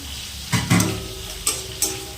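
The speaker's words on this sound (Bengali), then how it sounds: "টমেটোর সাথে খেজুর আর কিশমিশটা মিশিয়ে নেব" Tomato-lemon chutney with dates and raisins is stirred in a pan, with a few distinct scraping strokes over a steady sizzle, close and fairly loud.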